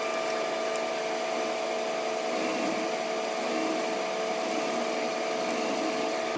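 Machine turning slowly at 25 RPM in a shop, giving an even, close motor hum that holds steady from start to finish.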